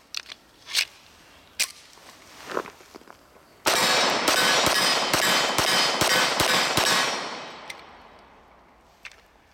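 A Dan Wesson Vigil CCO 1911 pistol fires .45 ACP in a rapid string of about nine loud, sharp reports, each cracking close and echoing away, preceded and followed by faint handling clicks.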